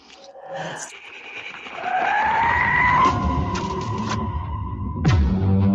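A shrill, rising scream-like Aztec death whistle swells and holds, then breaks off sharply, followed by a burst of noise.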